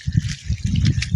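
Water trickles and spills over in a brief, close splashing burst with uneven gurgles.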